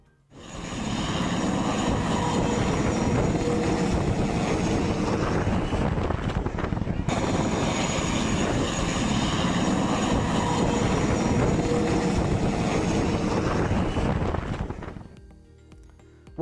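A rescue helicopter flies over a snowbound area, its steady rotor and engine roar loud and continuous for most of the clip before fading near the end, with no voices.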